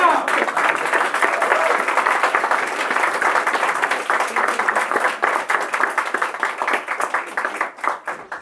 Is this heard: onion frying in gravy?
no